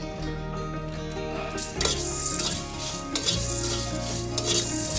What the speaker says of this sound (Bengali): ধনে, শুকনো লঙ্কা একসঙ্গে ভেজে নিলাম।